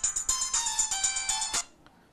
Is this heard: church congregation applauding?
no